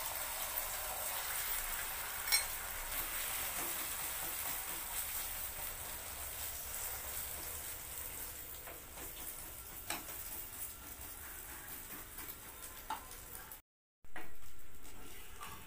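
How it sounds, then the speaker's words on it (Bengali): Egg rolls sizzle in hot oil, a faint continuous crackling hiss with occasional pops, broken by a brief cut before the frying resumes slightly louder. "এই যে এবার দেখো তেলের মধ্যে ছেড়ে দেবো"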